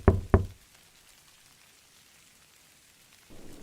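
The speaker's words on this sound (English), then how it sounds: "A quiet knock." Two quick, hollow knocks on a door sound close together at the start, then near silence with faint rain-like hiss before a soft rise at the end.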